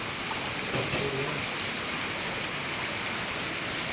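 Steady rain pours down over a flooded riverside village, a dense continuous hiss of drops on water and surfaces, moderately loud and unbroken with no voices.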